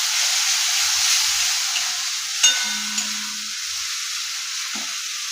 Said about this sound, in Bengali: এগুলোর সাথে আমি এই সমস্ত মশলাকে দিয়ে ভালো করে কষাবো যতক্ষণ পর্যন্ত না মশলার কাঁচা গন্ধটা চলে যাচ্ছে আর তেলটা ছাড়ছে